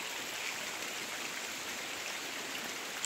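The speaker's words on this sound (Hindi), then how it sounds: "बारिश फिर से स्टार्ट हो चुकी है" Rain falls steadily at Ranthambore Fort, a constant soft hiss of drops with no breaks, faint and even throughout.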